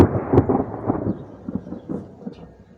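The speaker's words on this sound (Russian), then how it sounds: "Гром гремит. Наверное, будет дождь." Low thunder rumbles and rolls in uneven waves, fairly loud and close, fading slightly toward the end.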